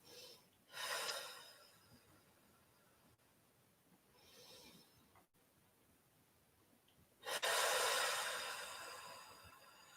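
Long audible exhales during a live-streamed yoga class, three breathy whooshes of varying strength, the last one loudest and drawn out, close to the microphone with no talk over them.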